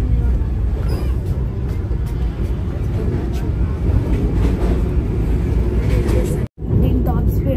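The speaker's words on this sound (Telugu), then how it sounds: "ఇదైతే ట్రైన్." A train with a top speed of 130 km/h makes a loud, steady rumble that continues without a break. It cuts out for a moment near the end and then returns.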